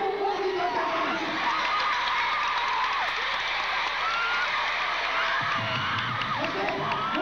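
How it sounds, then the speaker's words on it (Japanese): Crowd at a women's pro wrestling event cheers and applauds in a steady, dense roar that stays loud and unbroken throughout, with shouts and whoops rising out of the mass of sound. "もう一度大きな声援をお送りいただきます"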